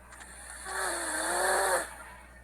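A man snores once, a single long rasping inhale rising and fading over about a second, close and steady against a faint hum.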